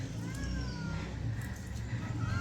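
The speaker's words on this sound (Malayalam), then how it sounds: "പൂച്ച." A cat near a wall, where tilapia fish are being caught and cut, meows a few times with a thin, rising cry. The meows sit under a voice and busy outdoor background noise.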